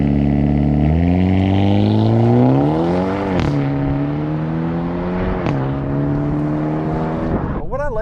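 A 2022 Hyundai Elantra N in custom N mode, its engine note loud and close, revving up with harmonics climbing, then two brief dips like gear shifts before holding a steady drone.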